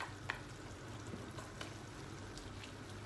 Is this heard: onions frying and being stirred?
yes